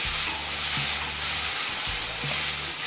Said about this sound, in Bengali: এখন মিডিয়াম ফ্লেমে চিচিঙে সিদ্ধ হয়ে আসা পর্যন্ত ভেজে নেব।